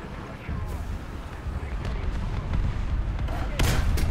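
Artillery shells landing around a Swedish Pvkv IV tank destroyer in the War Thunder tank battle, a rumbling run of low booms with a sharper blast near the end, heard through continuous engine and battle noise.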